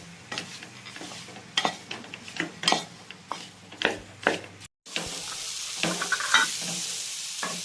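Squeezed, boiled soya chunks fry in a pan, a sizzle with repeated scraping stirs and metallic clinks close by, then a steadier frying hiss, with no talk.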